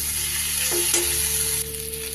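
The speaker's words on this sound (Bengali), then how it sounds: "এবার ভেজে রাখা আলু আর ফুলকপিটা দিয়ে দিই। মশলার সাথে একটু মিশিয়ে নেব।" Fried potato and cauliflower pieces stirred into a spiced masala in a pan, giving a steady frying sizzle with a couple of scraping spatula strokes over a faint constant hum.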